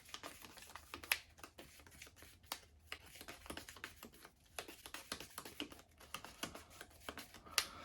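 Yu-Gi-Oh trading cards being hand shuffled, a quick run of light, dry clicking and riffling taps that continue steadily at close range with no voices.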